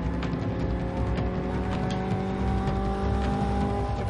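A 1964 Honda S600 drives past with a steady, buzzing engine note that holds at moderate level throughout, no talking over it.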